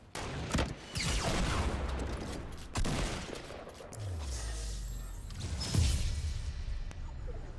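Rapid sustained minigun fire in a Fortnite Battle Royale endgame, a dense continuous burst of gunshots running through most of the stretch with sharper booms and a whooshing sweep near the end.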